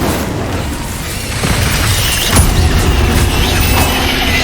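A Confringo blasting spell detonates in the Hogwarts Legacy video game, a loud dense burst with booming low rumble and crackling debris, swelling after the first second and staying sustained to the end without speech.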